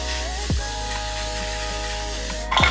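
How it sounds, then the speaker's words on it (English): Setting mist sprayed onto the face during a makeup routine, a short soft hiss of spray bursts, one near the start and another at the end, close and fairly quiet. "So I first go in with the settings mist"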